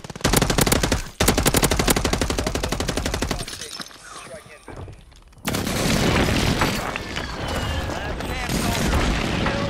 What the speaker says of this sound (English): All that just to die to my own precision airstrike, bro.